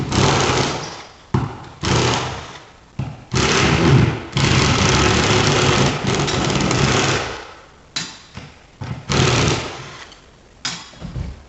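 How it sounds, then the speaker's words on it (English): A cordless impact driver fitted with a 5/16 hex bit backs screws out of a drywall ceiling, firing in loud, close bursts of rattling hammering separated by brief pauses. "We're going to get our impact with a 5/16 hex driver and take the screws out."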